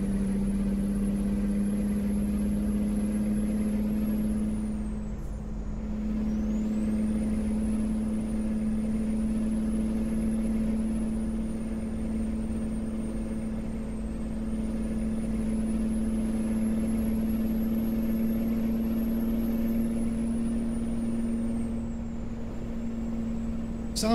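An older Peterbilt 359 truck engine in American Truck Simulator drones steadily at cruising speed for a long stretch, a constant low rumble with a faint high whine above it.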